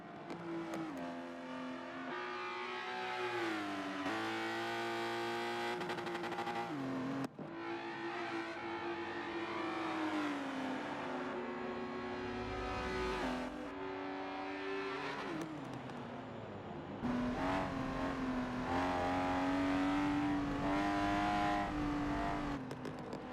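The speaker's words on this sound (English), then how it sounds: "I love the backfires of these Lotuses." Lotus race cars at a charity championship race at Maple Valley, engines revving hard and continuously with rising and falling pitch as they shift, loud and close throughout.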